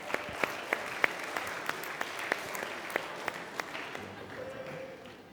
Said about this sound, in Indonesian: Kita berikan tepuk tangan untuk dua orang teman kita